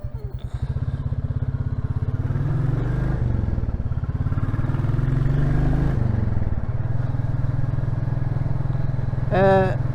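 Royal Enfield Classic 350 single-cylinder motorcycle being ridden, a steady close thumping engine note that rises and falls with throttle changes, with a rider talking over it.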